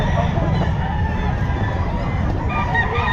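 A rooster (bull stag) at a busy pet market crows and clucks loudly and close, over a dense murmur of crowd noise.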